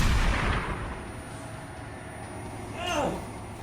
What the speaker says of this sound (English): You shot me in the eye from 50 feet away through a telescope, man.